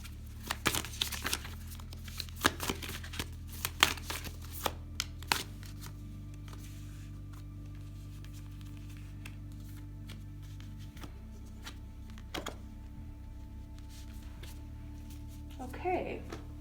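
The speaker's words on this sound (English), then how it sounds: "Just gonna shuffle and pull some cards," Wild Unknown Tarot cards being shuffled by hand, with soft papery riffles and flicks coming in irregular bursts, close but quiet, with a steady low hum underneath.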